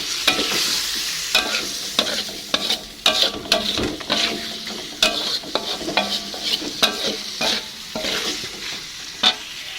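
A spoon stirs quail eggs and chicken meatballs in spicy balado sauce in a pan, with repeated close scraping strokes over a steady sizzle of frying.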